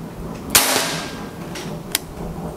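A Bocap FX 500 CC full-CNC PCP air rifle fires, a sharp close crack followed by a fainter second snap a little over a second later, over a quiet background.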